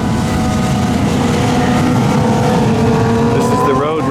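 Road racing vehicles circling the Mid Ohio track, heard from a hillside vantage point as a loud continuous engine drone with rising and falling pitch as machines pass.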